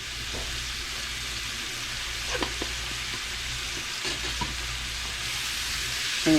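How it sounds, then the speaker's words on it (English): Parsley and spices frying in a pot as the base for an okra stew: a steady sizzle with occasional soft clinks and scrapes of stirring, no voices. "we are going to go ahead and let that fry up a little bit. Wake up the spices"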